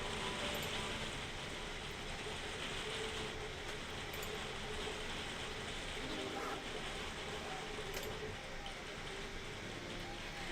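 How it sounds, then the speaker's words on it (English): Heavy rain pours steadily outdoors as a dense, continuous hiss, close and even throughout with no pauses. "God, rain is coming down."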